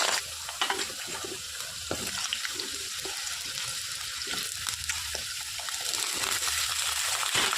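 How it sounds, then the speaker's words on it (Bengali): Potatoes dropped into hot mustard oil in a wok, a hissing, bubbling fry with splashy crackles and stirring knocks that grows steadier and louder toward the end, no voices. "তেলটা গরম হয়ে গেছে, এবার আলুটাকে ছেড়ে দেবো তেলে।"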